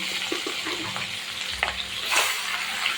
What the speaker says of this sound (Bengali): তেলের ভিতরে আমি মাংস দিয়ে দিচ্ছি